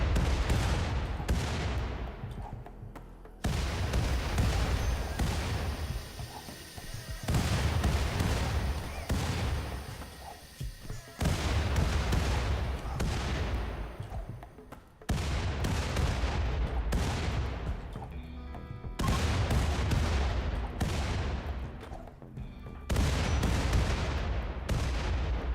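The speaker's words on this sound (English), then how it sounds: "this run we are using classic mortars" Classic mortars fire in RimWorld during an explosives-only run, a steady series of loud booming launches and blasts, each ringing out and decaying before the next, repeating roughly every few seconds.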